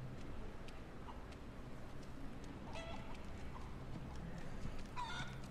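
Chicken clucking in the video game Resident Evil 4, a few soft scattered clucks over a steady low game ambience and rumble, fairly faint and with no talking.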